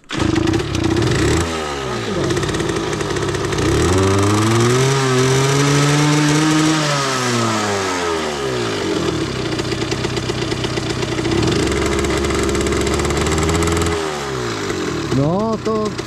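A Derbi Senda motorcycle engine runs at low revs, rising and falling in several slow throttle blips over a steady idle, loud and close, with people talking nearby.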